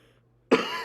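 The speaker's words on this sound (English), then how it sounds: "A little bit of a coughing spur there." A single sharp cough breaks the near silence, followed by the start of another cough at the very end.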